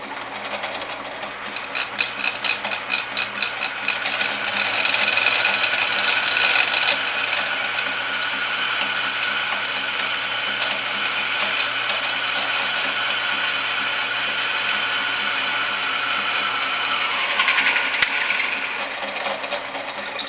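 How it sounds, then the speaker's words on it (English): A power drill whirs continuously at a steady pitch while boring into metal, close and fairly loud, with a slight shift in tone near the end. "So let's drill a hole, starter hole."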